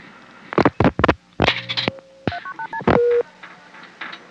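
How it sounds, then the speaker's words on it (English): A 1974 telephone dials zero, giving a rapid series of loud tones that come close together, followed by a clearer ringing tone and then a quieter tone pattern on the line. "Dial 0."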